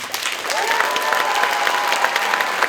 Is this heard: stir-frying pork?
no